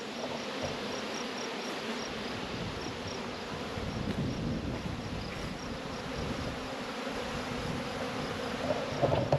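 Honey bees buzz in a dense continuous drone around hives during a robbing frenzy outdoors, a steady swarm hum with individual bees passing close now and then.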